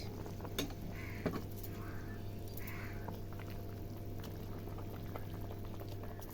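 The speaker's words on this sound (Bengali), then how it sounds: "তরকারিটা সুন্দর একেবারে ফুটে হয়ে গেছে" A pan of rohu fish curry with beans and potato simmers at a low, steady bubble, a quiet and even boiling sound with a few soft clinks early on.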